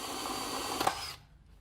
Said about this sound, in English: getting the other broken hinge pins from this frame out, using a hardened drill bit suited to metalwork